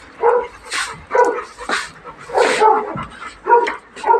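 A dog fed butcher's meat barks and whimpers up close in quick, uneven bursts of yips and whines, with a person's voice faintly mixed in.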